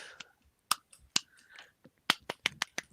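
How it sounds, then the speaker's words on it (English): Quick, bright hand claps from one person, close to the microphone, a burst of about six near the end after a few scattered soft sounds and one or two earlier claps. "That's me clapping."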